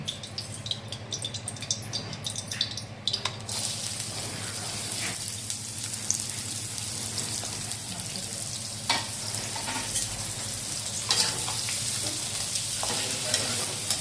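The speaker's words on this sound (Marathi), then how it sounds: "आता आपण कांदा परतून घेऊ।" Onion sautés in one and a half to two spoonfuls of oil for a river-shrimp usal, a close, steady sizzle with frequent scraping and clattering stir strokes throughout and no talking.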